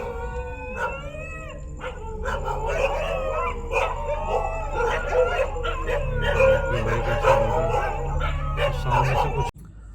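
A large pack of dogs howls wolf-like in rural Bahraich, a chorus of rising and wavering howls mixed with yips and whimpers. It sounds moderately distant, with a low steady hum underneath.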